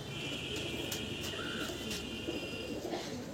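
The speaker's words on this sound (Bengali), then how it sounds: "এই পায়রা সন্ধ্যা করে দেয়, নর পায়রা, বিখ্যাত নর এটা" A male pigeon coos softly in a fancy pigeon loft, a brief low call sitting over a steady background hiss, faint and without voices.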